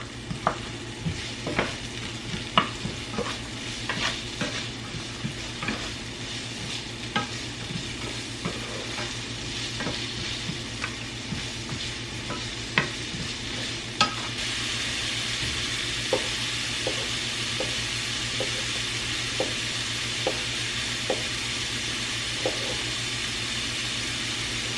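Onion sweats with a pinch of salt in a pan, a continuous low sizzle under repeated stirring taps and scrapes, the frying hiss swelling louder in the second half.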